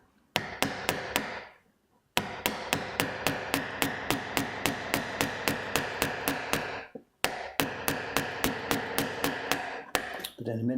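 Steady hammer taps on a chisel carving a block, delicate light strokes with the hand held near the top of the hammer, a regular close series of sharp knocks in three runs separated by brief pauses.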